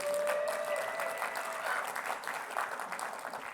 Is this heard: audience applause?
yes